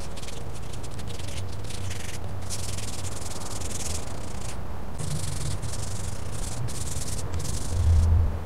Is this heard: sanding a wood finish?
yes